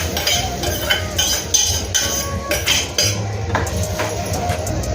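A spoon clinks and scrapes against a metal bowl in quick, irregular strokes while mango raita is mixed, close and fairly loud.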